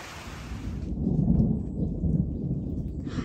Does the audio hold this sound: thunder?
yes